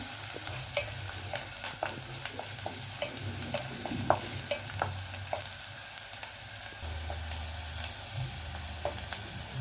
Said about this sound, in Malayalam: ഒരു ലൈറ്റ് ബ്രൗൺ കളർ ആവുന്നിടം വരെ ഇങ്ങനെ വഴറ്റാം.